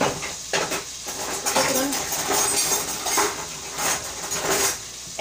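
Metal kitchen utensils and pans clink and clatter in a home kitchen during cooking, with a run of sharp, close jingling knocks and rattles as tools are rummaged through.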